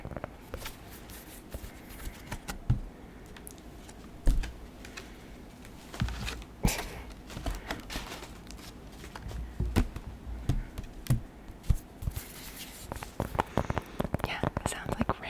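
Thick art paper handled up close, its crisp rustles and crinkles forming a dense, rain-like patter throughout, under soft whispering.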